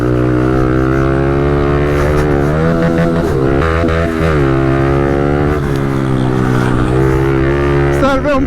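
A pit bike engine at an Italian pit bike championship race revs loud and continuous, its pitch rising and falling steadily with throttle changes throughout.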